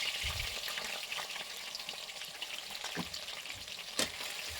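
Onions sizzling in a pan of hot oil with bay leaves for chicken ghugni, a steady, soft frying crackle throughout with occasional stirring scrapes, and no voices.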